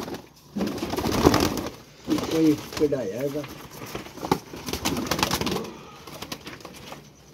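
Indian pigeons, male and female, cooing in rolling bursts amid rustling and wing flutters, with someone talking over them much of the time.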